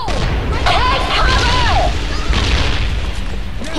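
A grenade blast in the online shooter Mercenary Online 2 lands as a loud, full boom that rolls on as a rumble, heard over steady game noise while players shout at one another.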